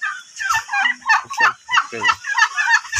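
A heavy turkey tom of around ten kilograms gobbles in repeated loud bursts at close range, with other turkeys calling nearby and a voice briefly heard.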